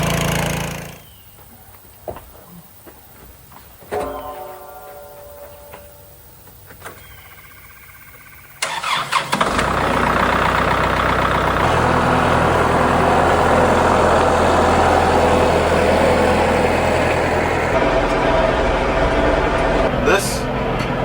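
A Kubota mid-range cab tractor's engine starts up abruptly and runs as a loud, steady, close droning rumble, after a quieter opening with brief voices and small clunks.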